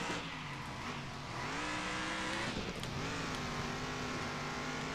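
A racing truck's engine drones steadily in Circuit Superstars, pitch rising and falling as it shifts through gears and revs through corners, loud and continuous with no talk.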